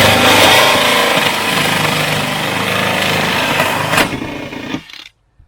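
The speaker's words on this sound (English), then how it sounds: "we're going to use this hole saw here to drill our hole." A hole saw grinds through a wall to cut a line-set hole for a mini split air conditioner, a loud continuous rough drilling roar that ends abruptly after about five seconds.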